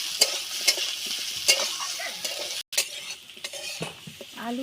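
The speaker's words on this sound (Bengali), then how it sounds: "আলুগুলো ভালো করে ভেজে নেব।" Potatoes and onions fry in hot oil in a pan as a spoon stirs them, a steady sizzle broken by regular metallic scrapes and clinks against the pan, close and fairly loud with no voices.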